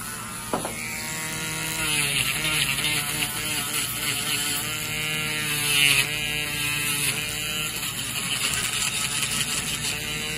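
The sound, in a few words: Dremel rotary tool grinding a thick fungal toenail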